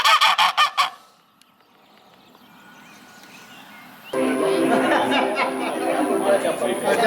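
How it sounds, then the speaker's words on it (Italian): A wild goose honks loudly in a quick run of about five close calls. After a quiet stretch, a dense chorus of honking and chattering from several birds follows and continues to the end. "questa è un'oca selvaggia, fa quello che vuole"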